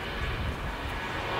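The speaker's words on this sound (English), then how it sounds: "just departing here on the 25s, here on the south side was Alaska Airlines Flight 1147 back to SEA Seattle, Washington" Alaska Airlines jet departing LAX on the south-side 25 runways, bound for Seattle: a steady broadband engine roar, distant and sustained, with no talk over it.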